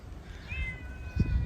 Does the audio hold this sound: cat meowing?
yes